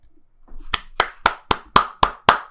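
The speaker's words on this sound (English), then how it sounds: "I love the clapping, boys." About eight sharp, close hand claps land in a steady, even rhythm, spaced roughly a quarter second apart, from people in a podcast studio, with no talking over them.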